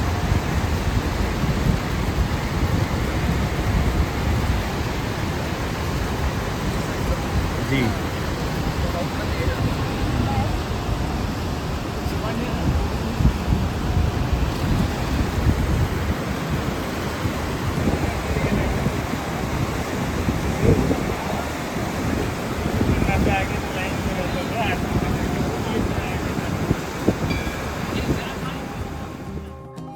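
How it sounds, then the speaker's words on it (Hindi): The fast-flowing Saraswati river at Mana village roars as a loud, unbroken broadband rush of water that fills the scene, with someone speaking briefly over it. "यहाँ पर सरस्वती नदी का वेग काफ़ी तेज है, जो आपको वीडियो में देखने को मिल रहा है।"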